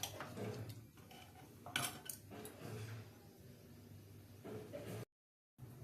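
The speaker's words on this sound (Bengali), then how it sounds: "এই জলটা ঢেলে দেব। এটাকে নাড়াচাড়া করবো। নাড়াচাড়া করে ফুটতে দেব।" Water poured into a cooking pot for pulao is stirred with a utensil, making faint, scattered scrapes and light clinks against the pot over a soft background hiss, then a sudden cut to silence near the end.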